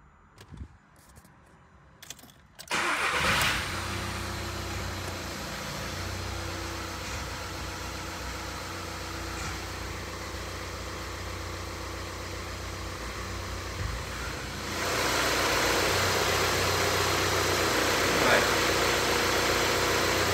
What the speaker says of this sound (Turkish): Birkaç vites dişli sesi geldi. Bu gayet normal.